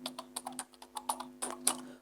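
Keys tapped on a computer keyboard while typing code in a Django deployment tutorial, a quick irregular run of close, crisp clicks with no voices.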